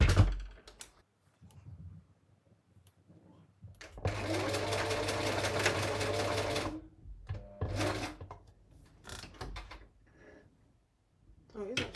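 Domestic sewing machine stitching a quilt block, a steady loud whirring run of about three seconds, with shorter bursts and clicks before and after and a person talking in between.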